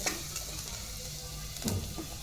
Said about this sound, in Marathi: थोडं मिक्स करून घ्या.